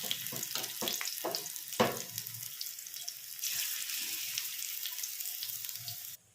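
Spinach kofta balls fry in hot oil, giving a steady, bright bubbling hiss with a few soft knocks early on, until the sound cuts off abruptly.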